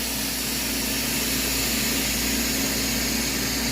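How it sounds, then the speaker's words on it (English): A freeze dryer's vacuum chamber releases its pressure in a steady, loud rushing hiss with a low hum beneath, continuing unbroken throughout. "Letting the pressure out of the chamber."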